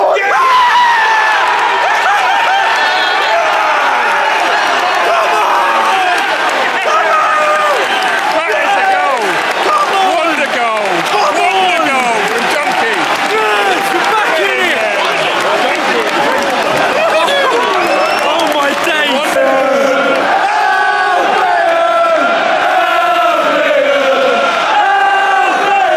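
A large football stadium crowd roars, yells and whoops at a VAR decision during Everton versus Brighton. The noise is loud and sustained, a dense wall of voices with shouts rising and falling throughout.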